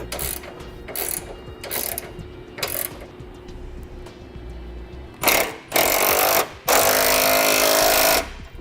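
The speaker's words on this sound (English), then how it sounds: "Now we can use 3/4 wrench and socket, or another wrench, and then begin tightening" A ratchet wrench with a 3/4 socket tightens 1/2-inch bolts on a crossbar-style tow base plate: soft clicking, then louder sustained bursts of rapid ratcheting close by, with no voices.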